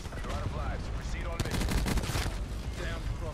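The Vesper gun fires in a first-person shooter video game, rapid bursts of automatic gunfire with dense crackling shots through most of the moment, mixed with game effects and faint voices.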